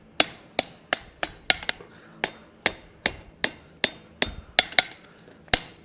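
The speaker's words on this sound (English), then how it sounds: "I'm going to hammer it back to myself a little bit" Hot steel is hammered on an anvil horn while a simple forged latch is shaped, sharp ringing blows struck about twice a second, close and loud, with a few quick double strikes.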